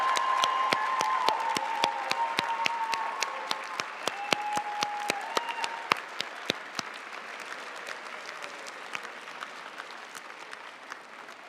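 Applause from families and guests at a university sociology department commencement ceremony, a steady burst of many clapping hands that slowly thins out, with a few whoops over it and no talk.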